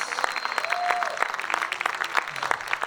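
Church congregation clapping hands in praise, a quick, uneven burst of many hands clapping together, fairly close and lively, with faint background tones.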